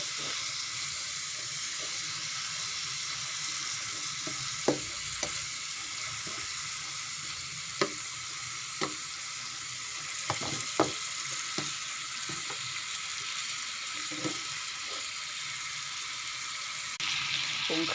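Vegetables and chicken giblets stir-fry in a hot pan, giving a steady loud sizzle with scattered scrapes and clanks from the spatula throughout.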